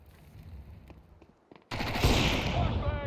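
Roaring whoosh of a molotov fire igniting at mid in a competitive shooter match, a sudden loud burst after quieter footsteps and distant gunfire, then a sustained crackling blaze.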